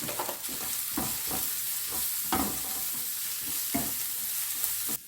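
Curry leaf sprigs and turmeric fry in hot oil in a pan for banana flower curry, a steady bright sizzle with repeated stirring scrapes at a regular pace, close and alone without talk.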